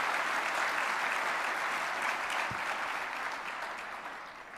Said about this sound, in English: how about a community round of applause for all these volunteers and employees who make Oklahoma City what it is today?